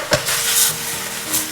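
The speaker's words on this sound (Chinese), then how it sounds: "开大火把汤汁收至浓稠" Chayote and tofu in a thin cornstarch-thickened sauce reducing over high heat, giving a loud, steady sizzle and hiss with a brief stirring clack at the start.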